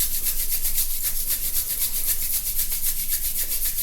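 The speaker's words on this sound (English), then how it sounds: "Rubbing our hands, producing the fire of yoga." Hands rubbed briskly together, a close, loud, rapid rhythmic hissing swish repeating for a few seconds.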